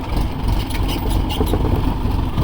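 A farm tractor pulling a hitched cart rumbles steadily and loudly up close, its engine running continuously with no voices over it.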